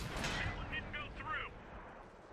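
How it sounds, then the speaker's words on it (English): Tank shells from a Churchill VII ricochet off armor in World of Tanks, a few sharp metallic pings and whines over roughly a second and a half against rumbling battle noise. "And then the bouncing happens."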